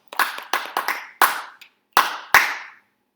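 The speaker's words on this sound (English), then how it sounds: "Claps all around." Audience clapping for a marching percussion member comes in six short, separate bursts of applause. Each burst is sharp and close and dies away quickly, with brief gaps of quiet between bursts.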